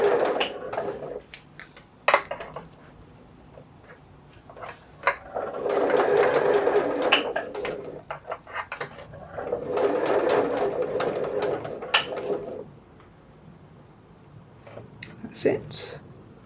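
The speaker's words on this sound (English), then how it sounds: "So I'm going to hold that in place and stitch down to the next dot." A sewing machine stitches a zipper pouch in two sustained runs of rapid mechanical whirring, close and clear, with quieter handling clicks between them.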